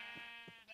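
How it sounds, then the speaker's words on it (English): Sheep in the Minecraft video game bleating, a thin, wavering single bleat that runs throughout, soft and somewhat distant over low background. "Oh, we have a Jeb sheep!"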